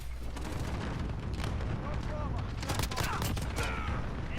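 Gunfire in the Call of Duty: Modern Warfare video game, M1911 pistol shots among a dense battle din of booms and blasts, continuous and loud, with a voice speaking over it.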